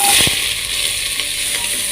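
Finely chopped onions being stirred into beef frying in a pan for a beef roast, a steady close sizzle with scraping spoon strokes throughout.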